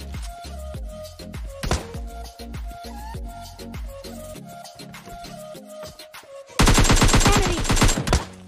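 Rapid gunfire in the mobile shooter PUBG Lite, with repeated sharp shots and bursts through most of the stretch, then a loud, dense sustained volley of automatic fire near the end.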